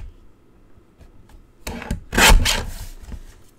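A guillotine paper trimmer slices through a stack of cards in a short, close scraping cut, a couple of quick rasps swelling into one louder sliding stroke that fades away.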